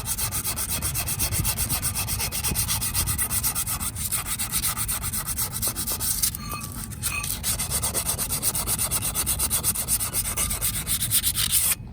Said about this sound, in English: removing as much of this corrosion on the lip as I can, and also using a diagonal pattern